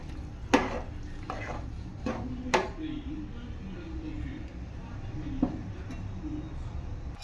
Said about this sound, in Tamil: லேசாக அப்படியே கிளறி விடுங்க